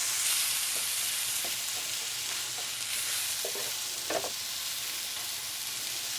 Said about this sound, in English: I keep stirring because I don't want this to get burned.